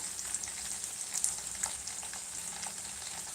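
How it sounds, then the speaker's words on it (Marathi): Chopped tomato going into a hot frying pan with curry leaves, giving a loud, continuous oil sizzle with small crackles and pops throughout, heard close and alone. "कढीपत्ता टाकलेला आहे टोमॅटो बारीक कापून घेतलेला आहे टोमॅटो टाकायचा"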